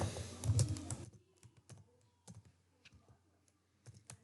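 Typing on a computer keyboard while writing a paragraph in Microsoft Word: a louder burst of keystrokes at first, then sparse, faint clicks scattered through a quiet room.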